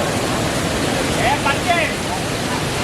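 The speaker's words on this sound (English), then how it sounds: "How big and beautiful the waterfall is." Vibhooti Falls near Yana Caves in Gokarna roars as a loud, constant rush of falling water, with a brief voice speaking faintly beneath it.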